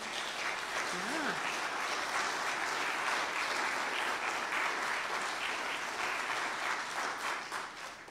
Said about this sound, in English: So let's give everybody a round of applause.